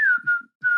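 A person absent-mindedly whistles a short tune, two clear sustained notes with a brief gap between them, close and alone.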